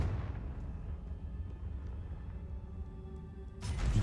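Confringo spell explosion in the video game Hogwarts Legacy: a low booming burst that decays into rumble, with a second sharp impact near the end.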